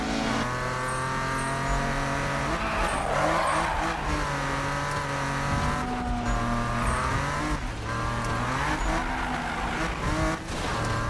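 A car drifts in Need for Speed (2015) with a steady, droning engine and tires squealing through the slide. The sound is sustained and continuous, with brief scuffs and bumps breaking in at a few moments.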